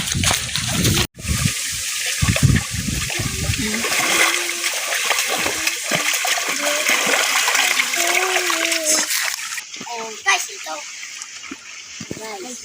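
Steady, close rushing of water flowing in a stream runs throughout, with people talking over it.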